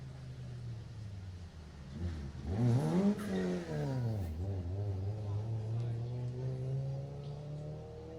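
A Subaru Legacy rally car sweeps past on a Jersey rally stage, its engine note climbing to a loud peak and then dropping away as it passes, before a steady fading drone, with spectators' voices faintly around it.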